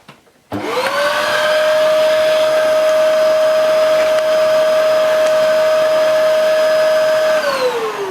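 A Hoover Idol A2 cylinder vacuum cleaner switches on after a brief quiet moment, rising to a loud, steady motor whine that holds evenly for several seconds, then starts to wind down at the end.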